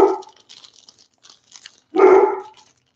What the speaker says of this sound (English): I don't know what she keeps barking at